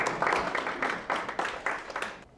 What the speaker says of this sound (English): Round of applause, okay?